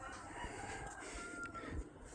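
Chickens by a farmyard coop cluck softly, with a faint crow rising in the middle, distant and quiet against a low outdoor background.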